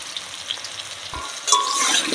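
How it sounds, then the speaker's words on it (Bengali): Diced potatoes frying in a pan with salt and turmeric, a steady crackling sizzle with a brief stir partway, the frying growing louder and brighter toward the end; no one talks. "এবারে একটু লবণ আর পরিমাণ মতন হলুদ দিয়ে আলুটা ভেজে নেব"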